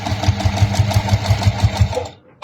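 Sewing machine stitching across clear vinyl with a steady, rapid mechanical rhythm, loud and close, stopping abruptly near the end.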